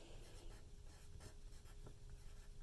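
A name written by hand on paper, with soft, quiet scratching strokes continuing steadily through a short, hushed moment.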